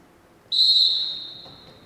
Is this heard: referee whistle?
yes